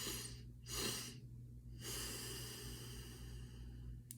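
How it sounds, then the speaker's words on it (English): Two sharp, airy inhales in close succession make up a double-inhale breathing exercise, taken near the mic, followed by a long steady exhale, with no talking. "So you can do something like the double inhale,"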